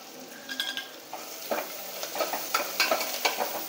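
Curry leaves sautéing with onion and crushed garlic in a pan, with a soft sizzle under repeated close, rhythmic scraping strokes of a spoon stirring through the mix.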